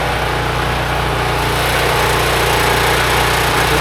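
A 4000W portable generator engine runs loud and close, a steady high-revving drone without a break and with no voices.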